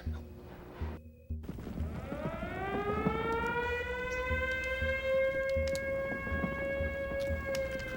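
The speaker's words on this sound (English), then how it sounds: "An air defense siren." An air defense siren wails, rising from a low start into a sustained, steady tone with strong harmonics that carries on for several seconds, with a brief gap near the beginning.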